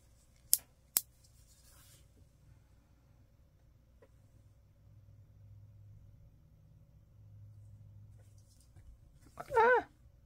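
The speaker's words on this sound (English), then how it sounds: "So it looks like I can trim off the margins." Scissors trimming the margins off paper, two sharp snips near the start followed by a low hum and a brief rustle near the end, close and quiet.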